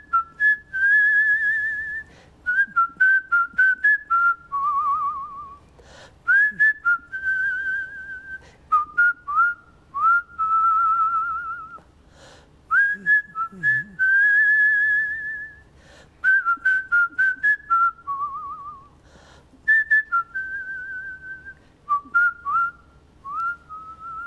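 A man whistles a short melody from the opera Summertime, clear, tuneful phrases in a steady run of separate notes with brief pauses, close and fairly loud, with no talking.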